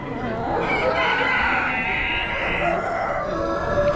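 Hens such as Sussex hens cluck and crow amid a noisy Amish animal auction, the bird calls steady and near under a constant hubbub of voices.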